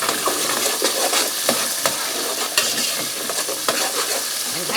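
Pumpkin and Italian beans frying in a pan, a loud, dense, continuous sizzle with occasional sharper crackles and stirring scrapes, and no voices.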